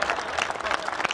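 Comedy show audience breaking into brief applause, a short burst of scattered clapping mixed with crowd noise and a voice over it.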